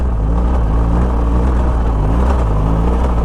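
A BMW R1200 GS Adventure motorcycle engine held at constant throttle while climbing a rocky hill, a loud, dense, low rumble that runs steadily throughout with no talking.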